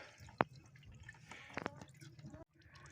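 Melted beeswax drips from a wax press into a container, giving a few short, bright drip splats over a low background hum, with two close drips together near the middle and a brief pause before the end.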